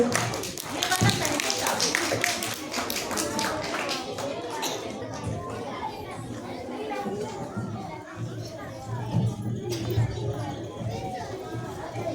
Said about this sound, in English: Please give a big round of applause to Advika Pandey.